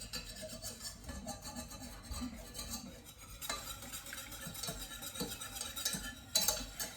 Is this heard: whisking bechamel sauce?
yes